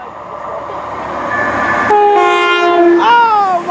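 Passenger train from Penzance to Glasgow Central passing through at speed, loud and close, with a steady rumble joined by a blaring two-tone horn that sounds through the last couple of seconds.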